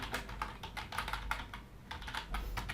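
Rapid typing on a computer keyboard while entering a name into an email form, with dense, steady keystrokes clicking close by for the whole stretch and no one talking.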